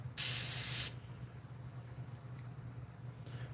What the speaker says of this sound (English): For the ears, I just kind of spray top down.